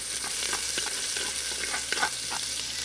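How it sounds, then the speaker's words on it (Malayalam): Chopped ginger and garlic sautéing in a pan for a Kerala-style chicken curry, giving an even, dense sizzle throughout with faint stirring scrapes, close and steady, no speech. "പിന്നെ നമ്മൾ വെളുത്തുള്ളി, ഇതൊക്കെ ഒന്ന് വഴറ്റിയെടുക്കണം കേട്ടോ."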